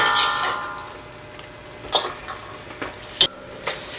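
About two kilos of beef for caldereta stirred as it fries in a pan, with a steady sizzle and several sharp scraping and clinking strokes of the utensil, close by.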